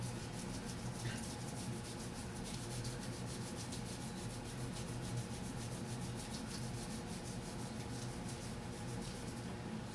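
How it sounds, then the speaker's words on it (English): Cremo shaving cream is rubbed by hand over an arm, making a soft, close, continuous rubbing with a faint stroking rhythm. No voices. "Now I'm going to rub it on my arm."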